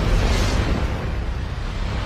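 A massive magical explosion in an anime battle: a dense, roaring blast of broadband rumble that stays loud and sustained throughout, with a heavy low-end boom and no voices.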